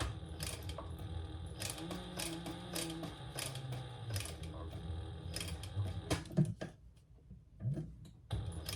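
A sewing machine stitches slowly, one stitch at a time, while a crossbody bag is being sewn. It gives a quiet mechanical whir with repeated clicks and pauses, then brief handling knocks near the end.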